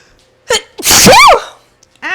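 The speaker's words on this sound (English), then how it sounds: "I need to sneeze." A single loud, close sneeze with a sharp inhaled build-up, recorded in a home kitchen while food simmers, followed by brief voiced sounds.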